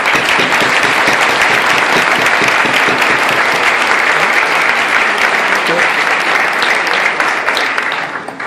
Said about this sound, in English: So how about a big round of applause?